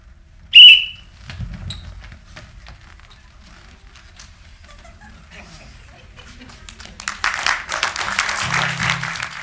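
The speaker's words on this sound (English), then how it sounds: "Runners get set at the whistle." A single sharp whistle blast signals runners to start, short and loud near the beginning, followed by quiet shuffling and then a rising spray of clapping or rushing noise.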